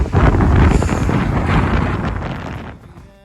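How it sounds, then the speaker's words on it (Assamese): Strong wind gusting across a bridge in Assam on the way to Duliajan, roaring and buffeting the microphone loudly up close, then easing off toward the end, with no talking. "আৰু এইফালে পূৰা বতাহ।"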